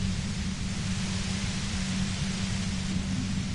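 Steady white noise from the video game Disco Elysium, a constant even hiss with a low rumble beneath, unbroken and alone throughout.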